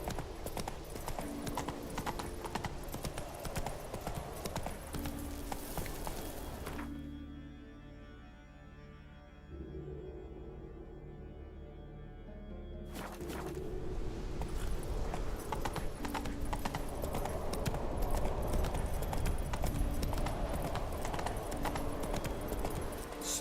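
Horse hooves trotting in The Witcher 3 on Skellige, a quick steady clip-clop heard close and loud for most of the stretch, dropping out briefly in a quieter middle section before resuming.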